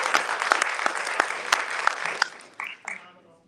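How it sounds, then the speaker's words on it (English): A crowd at a Baltimore civil rights week event claps, with sharp individual claps standing out from the steady applause, which tapers off quickly near the end as a voice begins. "Yes, applaud."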